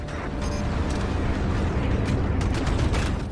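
Continuous low rumbling mechanical drone with creaking, grinding texture, a sustained holding hum from a capital ship in the space combat game Strike Suit Zero, steady and fairly loud throughout with no talk.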